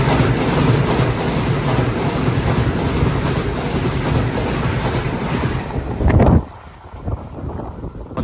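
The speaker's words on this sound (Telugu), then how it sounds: "ఇప్పుడు మనకి ఎదురుగా ట్రైన్ వస్తుంది కదా, ఇదే యశ్వంత్పూర్ కాచిగూడ వందే భారత్ ఎక్స్ప్రెస్ అండి" The Yesvantpur–Kacheguda Vande Bharat Express roars past close by with dense, sustained rail noise and rattling. It ends in a sudden loud burst, then drops to a quieter background.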